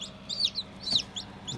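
Newly hatched chicks inside an egg incubator give high, sharp peeps in quick irregular bursts, close up over a low steady machine hum.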